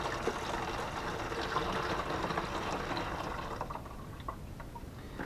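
Liquid poured steadily into a vessel while making a light mead, a continuous broadband splashing stream that holds for several seconds before thinning into a few drips near the end.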